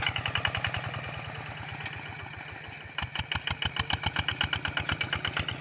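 A Kubota single-cylinder walk-behind tractor engine chugs steadily with a fast, even knocking pulse, close by and loud, its rhythm sharpening partway through.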